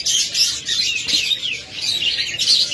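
A rainbow-colored pair of budgerigars chirps continuously, with quick high tweets and warbles layered close together, fairly loud and near, with no voices.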